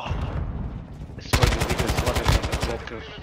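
An AK rifle in Call of Duty MW2 multiplayer fires in loud automatic bursts. The rapid, evenly spaced shots ring close after a short stretch of quieter game sound.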